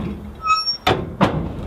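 Heavy metal door of a wood boiler swung shut, two sharp close bangs a fraction of a second apart after a brief tonal creak, in a quiet room with no talk.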